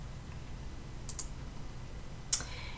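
A single sharp computer mouse click lands near the end, with a couple of fainter clicks before it, close and dry against a quiet room hum while someone navigates to a grades page.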